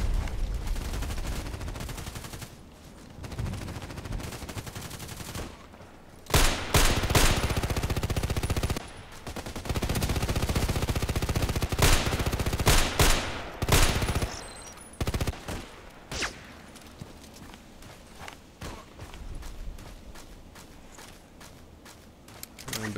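Repeated gunfire from a weapon in a sniper video game, with bursts of loud shots in clusters across the clip and quieter stretches between, some footstep-like taps in the gaps.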